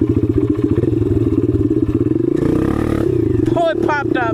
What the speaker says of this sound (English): this thing sounds pretty dang good for having a stock exhaust